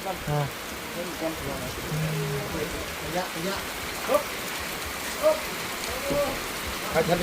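Rain falls steadily around a home building site in Thailand, a soft continuous patter with occasional louder drops, heard alongside faint background voices.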